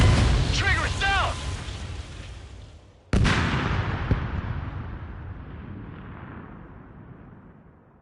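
Incoming missiles streak and detonate in the jet combat game Ace Combat. A brief whine and radio chatter lead into one sudden loud blast, whose heavy rumble fades slowly over several seconds.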